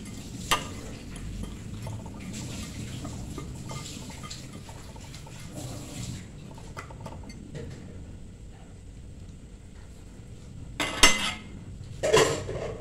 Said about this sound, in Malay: Masukkan ke semua ubi kentang dan tunggulah sehingga kari mendidih dan ubi menjadi empuk.